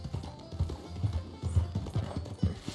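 Horse hooves galloping in a video game, a steady close clip-clop rhythm of repeated low thuds with no voices over it.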